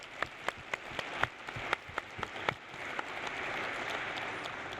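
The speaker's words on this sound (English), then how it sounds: "So that deserves a round of applause right there." Applause at a landscape architecture talk on climate change begins as a few sharp, separate claps, then swells into a faint, steady wash of clapping from a small, distant audience.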